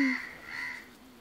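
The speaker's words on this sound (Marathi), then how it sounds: "कावळा" A crow gives a single harsh caw at close range, loud at the start and then trailing off, heard alone without any voices.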